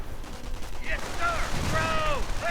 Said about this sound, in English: Defensive Nebelwerfer barrage.